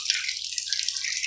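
Water running from a tap during ablution, a steady bright hissing splash, close and continuous, with no voices.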